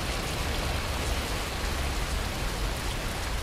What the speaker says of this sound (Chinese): 他这个车外雨声也太吵了